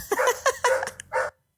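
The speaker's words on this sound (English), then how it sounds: "That damn dog." A dog gives a quick burst of several sharp, close barks and yips in a row, loud and alone, then stops abruptly.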